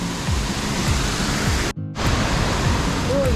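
A waterfall thunders close by as a steady, dense roar of falling water, broken by a brief dropout midway before the rush resumes at full strength.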